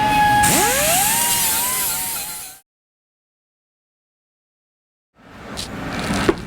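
A 3-inch flex backer pad deburrs vintage valve covers, a high, whining grind that bends in pitch, then cuts out to silence before quieter shop noise returns.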